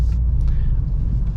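Engine of a Mercedes-Benz CLA45S AMG with a 2-liter engine, droning low and steady from inside the car while driving, with no talk over it.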